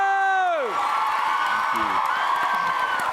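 A convention audience at a TwitchCon panel for the Dream SMP group cheers and applauds. A descending electronic tone opens, then a broad, sustained crowd roar with whoops follows.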